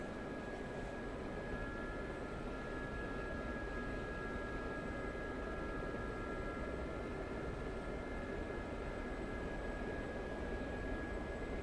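A helicopter shaking badly in the DCS flight simulator: a steady, dense rotor-and-engine roar with a constant whine above it, unbroken and fairly loud, with no distinct pulses standing out.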